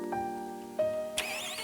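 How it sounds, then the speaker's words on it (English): The V10 of a Lamborghini Huracan Spyder cranks briefly with a starter whir, then catches and fires up near the end with a sharp, bright bark, heard close and alone with a quiet hum beforehand. "To operate it, you have to turn the engine on."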